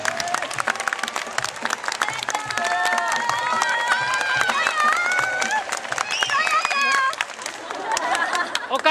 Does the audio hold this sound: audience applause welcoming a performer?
yes